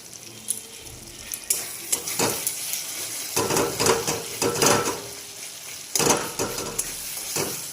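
Spice paste with salt and a little water sizzles and fries in a pan while a utensil stirs it, scraping and clinking in repeated bursts over a steady hiss.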